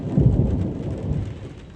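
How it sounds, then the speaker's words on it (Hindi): Low, continuous thunder rolls through steady rain during a storm, the deep rumble swelling near the start and then lingering without pause under the constant patter of falling drops. "बादलों का जो गरजने का साउंड है वो आप सुन रहे हैं बैकग्राउंड में"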